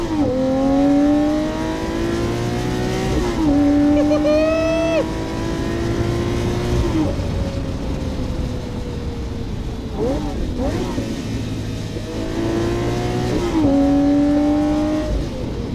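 Lamborghini Murcielago Roadster V12 and a 2023 Corvette Z06 accelerating hard, engine pitch climbing through repeated gear pulls with brief drops at each shift, loud and close, with people talking and cheering over the revving.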